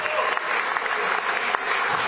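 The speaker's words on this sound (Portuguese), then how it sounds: "O governador da Paraíba, João Azevedo, uma salva de palmas." A ceremony crowd applauds the governor of Paraíba, João Azevedo, with dense, sustained clapping that stays strong and even for about two seconds, close and filling the room.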